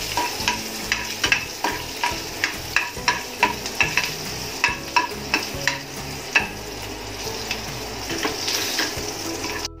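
Kokum pieces and cumin powder sautéing in a pan crackle with a close sizzle, punctuated by regular rhythmic scraping strokes of a spoon stirring, about two per second, with no speech.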